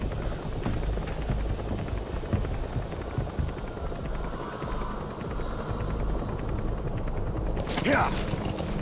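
A helicopter from the stealth-action game Metal Gear Solid V: The Phantom Pain arrives, its steady rotor thrum and mechanical hum droning throughout with game ambience, swelling slightly near the end.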